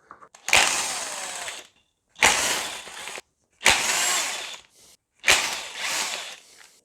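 Quick ratchet clicking while a Mercedes E220 W210 oil separator (PCV crankcase breather) is taken apart, coming in four separate close bursts with short silent gaps between them.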